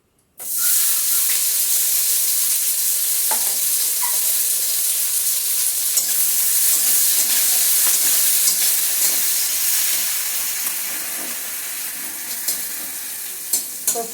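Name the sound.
chopped onions frying and sizzling in hot oil with bay leaves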